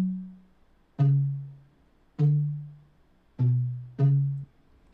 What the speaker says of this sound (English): This one is called Small Metal Box,